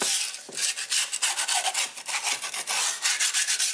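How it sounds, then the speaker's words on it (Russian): Burrs on a wood saw being ground off against a grinding wheel, a harsh continuous scraping hiss that pulses with short passes, close and loud with no talking. "решил снять на круге эти заусенцы вот таким, так слегка пройти"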